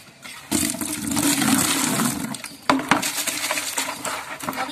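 Water pouring and splashing into a tub as it is washed out for a guppy setup, a loud rushing gush that briefly stops, then resumes with clinks and sloshing, close by.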